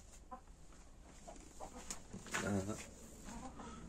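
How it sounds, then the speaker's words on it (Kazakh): Chickens cluck softly in the background, with one louder squawk near the middle, amid faint farmyard ambience. "Міне тауықтар."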